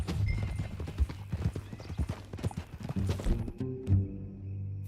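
Rhythmic hoofbeats of a horse in the video game Red Dead Redemption 2 clip-clop steadily at a walking pace, fairly close, with a deep tonal hum running underneath.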